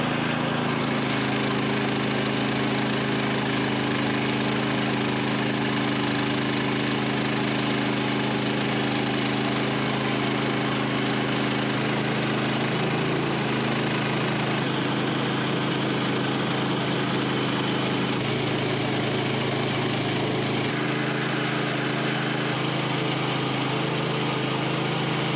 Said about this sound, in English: The engine is warmed up now.